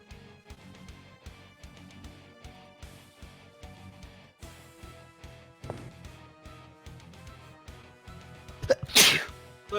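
A single loud, sharp sneeze bursts out near the end, close by, rising above quiet background music and room noise during a tabletop role-playing game session.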